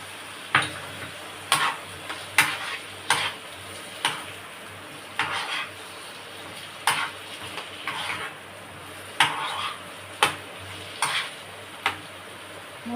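Boiled potatoes are stirred into melted tomatoes in a hot pan, with a spoon scraping and knocking in a steady rhythm over a constant low sizzle.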